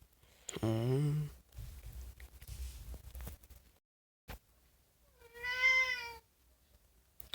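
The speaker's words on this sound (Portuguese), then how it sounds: "Eu tô com um gato do meu lado aí. E o sujeito aqui é meio difícil. Ele fica miando." A house cat meows close by, one long harmonic cry early on and a second higher, shorter meow near the end, separated by quieter room noise.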